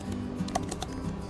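Keys clack on a computer keyboard while a git commit message is typed, with a handful of quiet, irregular taps over faint background hum.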